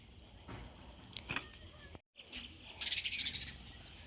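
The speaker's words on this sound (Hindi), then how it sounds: "मेरी चिड़िया आ गई है चावल चुगने" Small birds come to peck at rice scattered on the ground near a household tulsi plant, giving faint scattered chirps and a rapid run of bright twittering calls toward the end, with some rustling.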